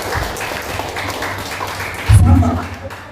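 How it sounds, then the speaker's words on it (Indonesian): A church congregation at an Indonesian-language service cheers and applauds, a steady crowd noise that swells into a louder burst near the end. "Berikan sorak-sorai untuk Tuhan kita."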